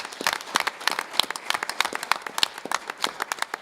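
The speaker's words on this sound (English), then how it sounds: "If we could give our staff a big round of applause." Light, scattered applause from a modest audience at a community school board meeting, clapping for the school staff in an uneven patter of separate claps for a few seconds, fairly near, with no talking over it.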